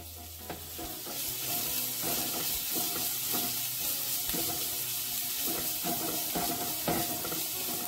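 Garlic sizzles in a little hot oil on medium flame for fried rice made from leftover rice, a steady close crackle with stirring scrapes throughout and no talk.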